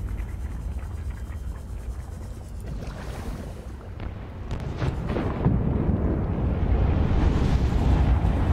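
A deep, rumbling roar from an explosion in Subnautica Below Zero, swelling into sustained low, turbulent noise that grows louder over several seconds, with no speech.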